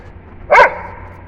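A street dog lets out one short, sharp bark close by, then falls quiet over a low background murmur.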